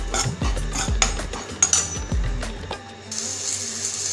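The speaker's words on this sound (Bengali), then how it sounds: "এরপর ওই যে ভাজা সবজিগুলো ছিল এতে অ্যাড করে দেব।" Fried vegetables are tipped into a cooking pan over five-spice, coriander and cumin powder, then stirred, giving rhythmic scraping clatters of a spoon against metal at close range with a softer frying hiss toward the end.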